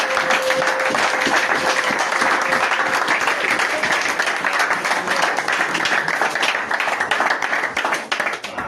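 A church congregation claps and cheers in sustained, dense applause at an assembly service, loud and even throughout with a steady roar of hands and voices.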